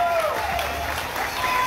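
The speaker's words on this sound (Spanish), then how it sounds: "¡Fuerte el aplauso!" Crowd applause at a salsa concert, a continuous roar of clapping and cheering heard throughout, with a voice faintly audible over it.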